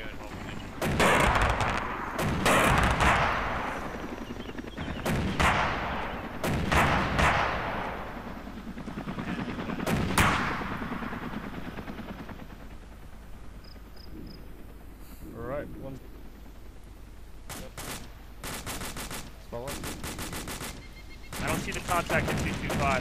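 Gunfire in a military video game, with loud bursts and heavy shots cracking in rapid irregular volleys, some close and some trailing off, over a steady low rumble and occasional radio-like voices.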